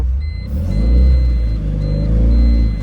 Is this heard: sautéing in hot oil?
no